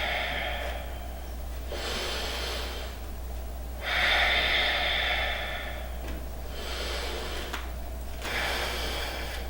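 Someone breathes steadily while holding a pose in an advanced vinyasa flow. Several slow inhales and exhales sound close and clear over a low steady hum.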